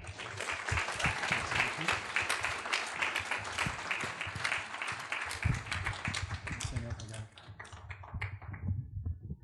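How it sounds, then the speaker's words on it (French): A church congregation breaks into sustained applause, a thick, brisk patter of many hands clapping at a steady level before it thins and fades out toward the end. "On l'applaudit, mes frères?"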